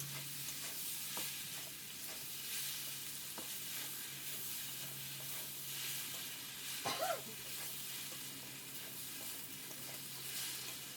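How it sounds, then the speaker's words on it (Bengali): Banana flower sautéed with spices in a pan gives a continuous soft sizzle and hiss, with occasional scrapes and one brief clatter of stirring, quiet and steady throughout. "প্রায় অনেকক্ষণ ধরেই আমি এখানে কষলাম।"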